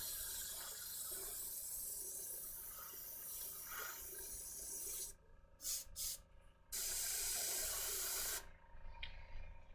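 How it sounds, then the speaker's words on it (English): An aerosol can sprays a light coat of green paint onto a vellum fern, sounding as a close, steady hiss for several seconds, then breaking into short bursts and ending in one longer spray. "I'm going to give the entire fern a very light coat of green, only from the one side."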